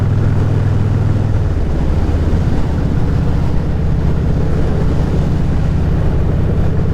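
A motorcycle with an aftermarket exhaust and air cleaner rumbles loud and close with a deep, throaty exhaust, idling steadily and then shifting in pitch, with some wind noise.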